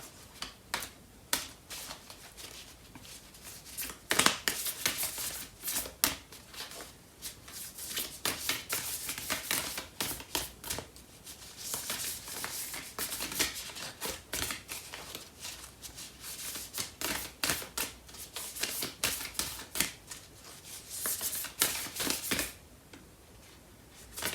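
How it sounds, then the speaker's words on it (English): A Lover's Oracle card deck being shuffled and handled, soft rapid riffling and papery flicks in bursts across the whole stretch, close and quiet with no speech. "So I'm going to pull out a card from the Lover's Oracle deck"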